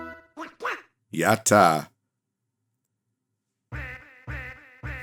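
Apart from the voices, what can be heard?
Donald Duck quacking in SNES video game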